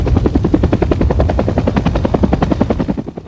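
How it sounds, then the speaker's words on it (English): Military helicopter gunships in Desert Storm flying close and loud, a steady rapid rotor chop throbbing without break across the whole stretch, no voices. "Helicopter gunships join Desert Storm in vast numbers."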